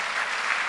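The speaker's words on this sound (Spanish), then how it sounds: "Démosle un fuerte aplauso al Señor." Church congregation applauding during a Spanish-language sermon, a steady wash of clapping from many hands that fills the short moment without any voices on top.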